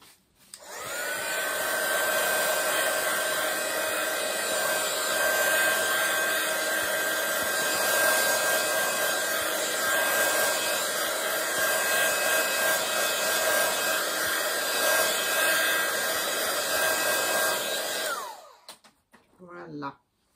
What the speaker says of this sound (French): un petit coup de petite gun pour être sûr que ce soit bien sec